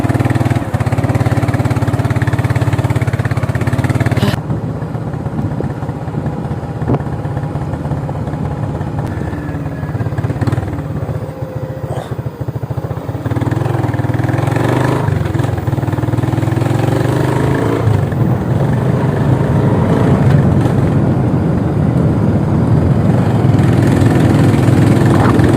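A motorcycle engine runs steadily at close range, producing a loud, continuous low drone that holds through the whole stretch with small rises and dips in intensity.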